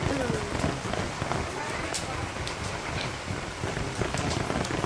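Steady rain falls on surfaces in a Bangladeshi village, a dense, close patter with scattered louder drops that runs the whole time, with no clear talking over it.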